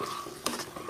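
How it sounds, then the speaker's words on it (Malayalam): A spoon stirring a banana and coconut dish in a pan, with a soft frying hiss and a brief scrape of the utensil against the metal, close by. "നന്നായിട്ട് ഇളക്കുക"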